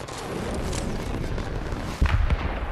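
A rocket launcher blast in Fortnite lands as a loud low boom near the end, following a dense stretch of muffled rumbling game noise.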